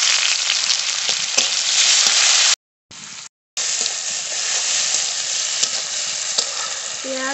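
Chopped onion and tomato with whole cumin frying in a pan give a close, steady sizzle, with stirring scrapes throughout and two brief silent gaps.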